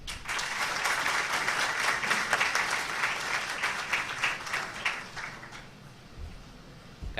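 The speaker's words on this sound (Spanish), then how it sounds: "Reciban entonces con gran aplauso al conferencista Elías Báez." Audience applause for a speaker at a university law conference in the Dominican Republic, with a dense, steady clapping that fills the room for about six seconds before thinning out, then a brief final burst.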